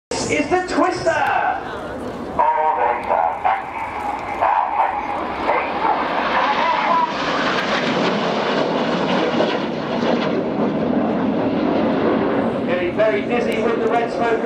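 Red Arrows jets roar overhead in display formation at the Farnborough Air Show, a loud, sustained engine rumble and whoosh that swells and shifts across the sky, with an announcer speaking throughout.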